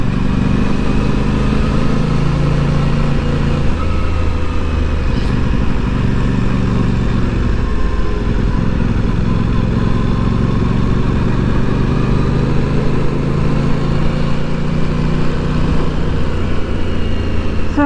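Aprilia 2023 Tuono 660 Factory motorcycle on the road: a steady, loud engine drone with heavy wind rush throughout, the revs rising and falling slightly as it rides on.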